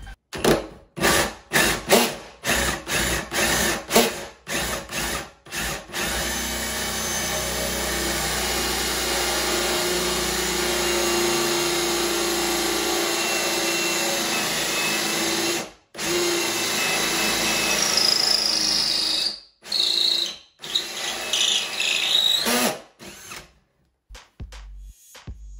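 A power drill bit bores grommet holes into a wooden desk: a few short bursts, then a long, steady, loud whirring run, then more stop-start bursts at the end.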